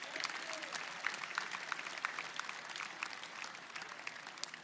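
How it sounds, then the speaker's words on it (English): Steady applause from a large audience at a 2024 graduation ceremony, a dense wash of distant clapping with sharper individual claps standing out, even in level throughout. "let's give him a round of applause as well."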